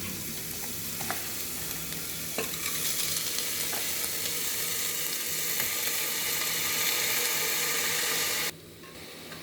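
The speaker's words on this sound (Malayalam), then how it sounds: "അരി നമുക്ക് ഒന്ന് ഫ്രൈ ചെയ്യാം" Rice frying in a pan with softened onions for coconut rice: a continuous close sizzle with occasional stirring scrapes, which drops off sharply near the end.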